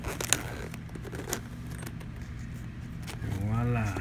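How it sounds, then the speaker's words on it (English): A zipper pulled open on a case holding camera sunglasses, short scratchy rasps and small rattles close by, with a few light knocks and a voice talking near the end. "I'm finna unzip it right now and open it up inside."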